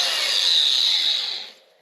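Sanding with 120 grit sandpaper on a budget cyclone barrel for a dust collector: one loud, close, hissing abrasive stroke lasting under two seconds that then fades, with no talk.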